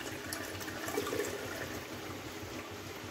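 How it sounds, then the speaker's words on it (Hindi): Water poured and strained out of a mixer-grinder jar of ground bhang (hemp) seeds, a steady splashing, trickling flow close by that runs throughout, with no talking. "एक बार और पानी डालेंगे इसमें मतलब मिक्सी के जार में और इसे फिर से दोबारा छान लेंगे"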